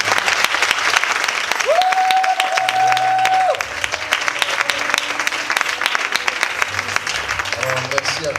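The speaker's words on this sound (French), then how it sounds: "On va acclamer Dieu." A church congregation applauds and cheers to praise God during a worship service, dense sustained clapping with crowd noise throughout, while a voice and a held tone sound over it briefly.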